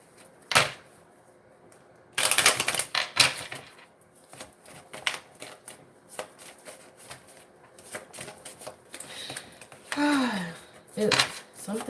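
Tarot cards are shuffled and handled, giving bursts of crisp riffling and slapping snaps with quieter pauses between, and a voice talks intermittently close by.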